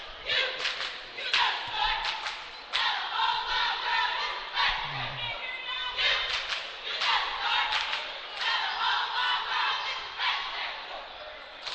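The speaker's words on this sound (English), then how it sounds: "the Woodbridge Raider fans are cheering on their team" Fans at a high school basketball game between Polytech and Woodbridge cheer and yell in repeated surging bursts. Ball and floor thuds sound underneath, and the crowd noise is loud and fills the space throughout.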